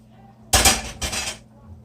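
A knife cuts through cooked broccoli spears on a plate, making two short, close clinking scrapes of blade against the plate, one right after the other.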